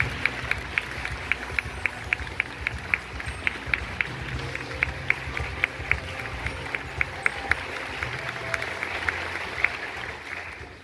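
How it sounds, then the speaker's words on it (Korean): Large audience at a Korean youth programming contest event applauding and cheering to welcome a speaker: steady dense clapping and crowd noise throughout, with sharp individual claps standing out, moderately far. "멋쟁이 사자철업 대표 이두희님을 여러분 힘찬 박수와 함성으로 맞아주시기 바랍니다."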